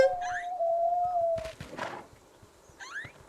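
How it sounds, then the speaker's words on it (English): A creature's call in the video game Creatures of Ava, sounding somewhat owl-like: a sustained tonal whistle lasting over a second, followed by brief harsher cries and a short warbling chirp amid quiet game ambience. "Something sounds more like an owl."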